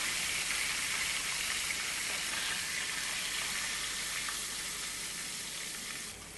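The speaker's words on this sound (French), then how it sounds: "maintenant que l'huile est chaude, on fait frire les morceaux de volaille passés dans la farine" Flour-dredged poultry pieces frying in hot oil, a steady close hiss and crackle of sizzling that holds evenly and fades slightly at the end, with no voices.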